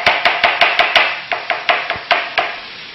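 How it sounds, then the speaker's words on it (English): A knife chops a small mushroom on a board for a chicken dish, about a dozen crisp, close-up strikes in a quick, steady rhythm with no talking. "I'm finishing up chopping a little mushroom for our dish"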